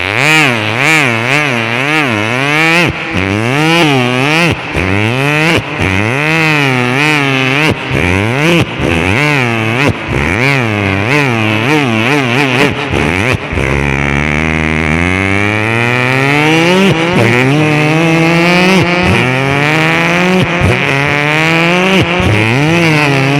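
A voice imitates a local motorcycle circling a well-of-death stunt pit, a loud, continuous buzzing engine whine that rises and falls in repeated revving sweeps, close and sustained, over faint crowd noise.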